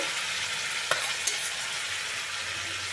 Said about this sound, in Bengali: এবারে এটাকে কষাবো মিডিয়াম ফ্লেমে আমি এটাকে কষিয়ে নেব